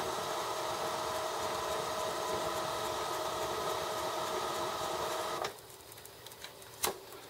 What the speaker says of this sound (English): going to let it run its head clean